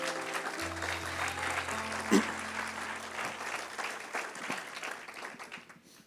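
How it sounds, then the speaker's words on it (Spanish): Warm applause from a church congregation during a sermon, a steady wash of many hands clapping that swells briefly near the middle, with low tonal music sustained underneath, then slowly thins out. "de verdad que se merecen un fuerte aplauso"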